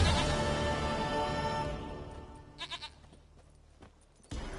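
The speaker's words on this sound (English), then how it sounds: "Goat of mine, dearest, sweetest goat." Goat bleating in The Witcher 3, a few short wavering bleats against a steady game background that drops out briefly before returning.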